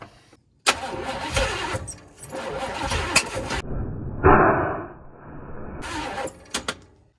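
A 1980 Pontiac Grand Le Mans engine cranks in several loud bursts with a little fuel poured down the carburetor, catching briefly once amid the cranking before falling silent between attempts.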